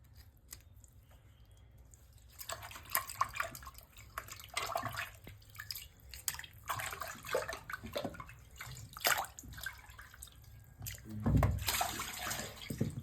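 Water sloshing and splashing in a bowl as fish is rinsed by hand, with intermittent drips and swishes, close and steady.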